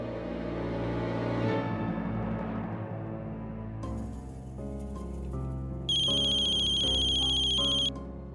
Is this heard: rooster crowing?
no